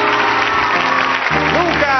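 A television studio audience applauds a singer's entrance, steady clapping filling the room throughout while a voice speaks over it.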